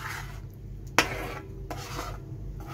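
A utensil scrapes and stirs tomatoes in a pan for arrabbiata pasta sauce, with a sharp clink near the start followed by soft, intermittent scraping.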